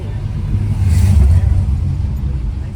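A Volkswagen Passat's engine revs close by in a low rumbling surge that swells around the one-second mark, then eases back to a steady drone.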